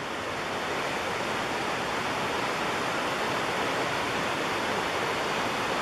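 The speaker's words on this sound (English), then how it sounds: "Beaver River flow through the cut." The Beaver River in Croghan, New York, rushing through a rock cut, a loud, steady roar of whitewater heard alone and unbroken throughout.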